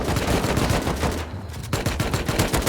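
Loud, rapid AK rifle automatic fire in sustained bursts in the game Rust, shots crackling close together with a brief lull midway, then resuming.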